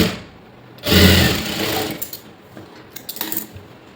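A sewing machine stitching a blouse sleeve runs in one loud, close burst, then gives way to lighter, scattered mechanical ticks and short whirs.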